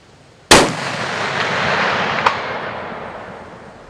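A rifle shot fired at a steel target 444 yards away: one sharp, loud crack followed by a long rolling echo, with a faint metallic ping of the steel arriving about two seconds later.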